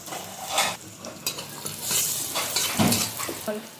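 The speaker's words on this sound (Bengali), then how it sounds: "বেগুনটা হালকা করে ভেজে নিয়েছি" Eggplant fries in a pan with a constant close sizzle, broken by repeated scraping and stirring strokes of a utensil against the pan, with no voices.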